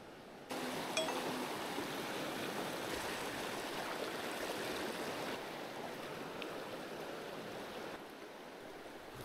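A trout stream's regular current runs over riffles between flat stretches, giving a soft, continuous rushing wash of water that stays steady throughout.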